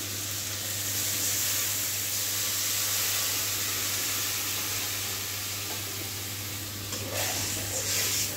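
Water poured into a hot pan of spiced, sautéed vegetables for a shrimp curry gravy raises a steady, bright sizzling hiss that holds evenly for several seconds, close and fairly quiet, with no talking.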